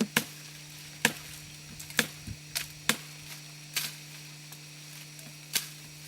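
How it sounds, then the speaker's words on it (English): Sharp, irregular chopping strikes ring out one by one as bark is stripped from firewood outdoors, about a dozen crisp hits over a steady low hum. "they are removing the bark"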